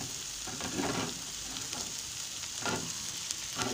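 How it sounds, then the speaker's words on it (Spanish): Jalapeño (cuaresmeño) chiles fry in a pan with a steady sizzle and soft periodic scrapes as they are stirred, close and continuous with no talking. "vamos a poner los chiles cuaresmeños y que se empiecen a freír, que se empiecen a cocer"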